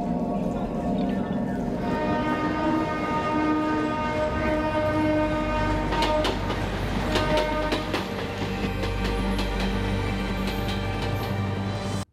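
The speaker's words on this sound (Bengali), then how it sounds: "ট্রেন চালু হয়ে যাবে" A train rumbles past with a long, loud, sustained horn blast, and clattering wheels grow louder partway through.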